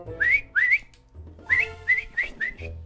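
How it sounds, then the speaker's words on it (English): A person whistles a short tune of rising, sliding notes in several separate phrases, close and clear with brief pauses between bursts and faint background hum. "all I'm going to be doing is whistling"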